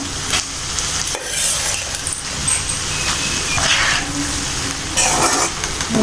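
Egg fried rice stirred and mixed in a hot pan, a loud steady sizzle with scraping and clinking of a utensil against the metal, continuous and close.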